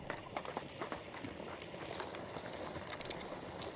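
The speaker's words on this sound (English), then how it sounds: "I only hear one set of footsteps" Rapid footsteps of an enemy player running in the game Hunt: Showdown, a dense continuous patter of steps over gritty ground that persists throughout at moderate level with no speech.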